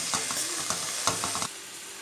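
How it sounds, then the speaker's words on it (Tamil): Drumstick leaves sautéing in oil in a pan, a soft steady sizzle with several scraping stirs of a spoon. "ஊற்றாமல் அந்த எண்ணெயிலே நல்லா வதங்கட்டும்"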